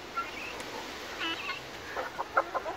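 Smallholding hens cluck in a few soft, short bursts over faint outdoor background noise, with a small flurry of clucks near the end.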